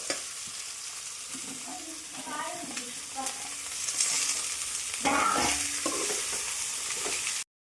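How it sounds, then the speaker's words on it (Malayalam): Sliced shallots and onion sizzle and fry steadily in a pan, with occasional stirring scrapes and rising crackle, up close with no talking. "നമുക്ക് കൊച്ചുള്ളി സവാള അരിഞ്ഞ് ഇട്ട് കൊടുക്കാം"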